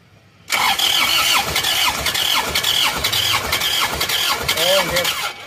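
Isuzu Panther diesel engine, run out of coolant on a toll road, cranks over steadily on its starter with a repeating churning rhythm, close and loud, while people talk nearby.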